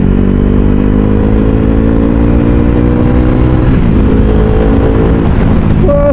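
Kawasaki Ninja ZX-10R superbike engine droning steadily while being ridden, a loud continuous rumble with layered harmonic tones that shift slightly in pitch as speed changes, filling the whole stretch with no voices.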